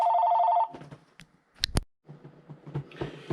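A telephone rings with a steady electronic trill for about half a second, then stops, followed by clicks, handling noises and faint sounds nearby.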